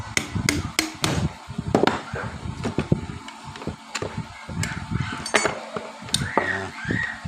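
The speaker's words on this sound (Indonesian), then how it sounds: "ini baru diketok pakai obeng min saja ya, jungkil pakai obeng min saja begini" Sharp metallic taps and knocks from a flathead screwdriver striking and prying a part loose on a Sanyo water pump, a string of close, uneven clicks and clinks with scraping between them, no voices.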